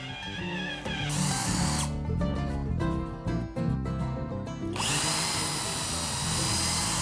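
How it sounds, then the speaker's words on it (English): A power drill drives screws into a wooden workbench section. Loud, close motor whine comes in several bursts that rise and fall as each screw seats, with no voices. "attach it with screws, making sure the screw heads are at or slightly below the surface"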